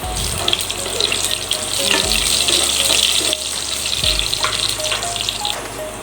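Garlic fries in oil in a pan for Filipino bihon, a steady sizzling hiss close by, mixed with running water and a few clinks and low thumps.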